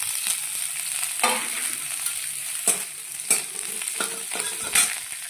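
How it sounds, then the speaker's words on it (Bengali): Cauliflower florets and stalks fry in hot oil left from making onion fritters, a constant crackling sizzle broken by several scraping stirs of a spoon across the pan. "সেই পেঁয়াজি বানানোর তেলটার মধ্যে আমি ফুলকপি ডাঁটিটা আর ফুলকপিটা ভেজে নেব।"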